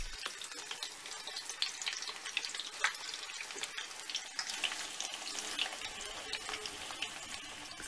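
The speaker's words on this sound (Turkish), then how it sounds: "En son yeşil kabaklarımızı koyuyoruz ve yeşil kabakları da kızartıyoruz." Zucchini sizzles loudly and steadily as it fries in a hot pan, with a dense crackle and spatter throughout and no talking.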